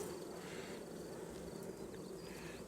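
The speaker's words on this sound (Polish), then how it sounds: "Pszczoły zaczną wychodzić właśnie do góry." Honey bees drone at an open hive in mid-May, a faint, steady buzzing hum with occasional brief higher whines as single bees pass close, and no talk.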